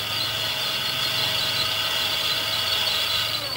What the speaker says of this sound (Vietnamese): Video test thử cái bộ trục cầu xe điện nhà xưởng này.